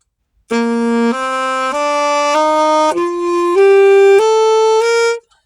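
A saxophone plays a smooth run of sustained notes stepping upward, each one flowing into the next without a break.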